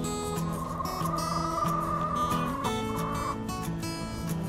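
Chickens in a backyard chicken run planted with greens and tree kale give steady, overlapping clucks and fowl calls close by, filling the whole stretch without any talk.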